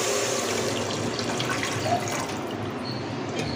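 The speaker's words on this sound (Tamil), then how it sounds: "ஸோ தண்ணி இப்போ சேர்த்துடலாம்." Steady rush of water poured into a cooking pot of rice for coconut rice, a continuous close splashing flow lasting the whole stretch with no talk.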